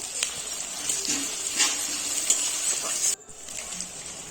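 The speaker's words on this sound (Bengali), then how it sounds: "পেঁয়াজটাকে লাল লাল করে ভেজে নিতে হবে টমেটো কুচি দিয়ে দিলাম" Chopped onion and tomato frying in oil in a pan, a loud, close, continuous hissing sizzle with light stirring scrapes, briefly dropping out for a moment before resuming.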